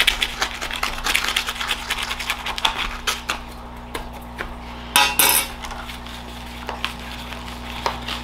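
Soil being loosened from a bonsai pot with a metal tool, giving a steady run of close scraping, clinking and tapping sounds over a low background hum.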